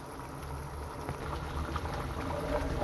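Mustard paste sautés in oil for a hilsa fish recipe, a faint, steady bubbling sizzle that swells slightly toward the end.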